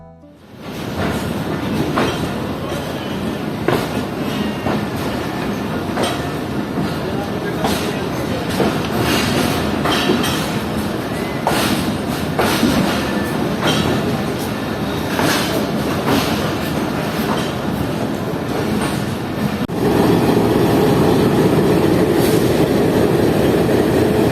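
The Karachi Express rumbles along the rails on its run toward Lahore, a loud, steady rolling roar heard from inside with repeated rhythmic wheel clacks throughout and a brief shift in tone near the end.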